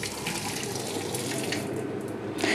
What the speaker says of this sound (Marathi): तर हे आंबे मी काढते, गाळून टाकते पाणी आणि ह्या वाडग्यामध्ये थंड करत ठेवते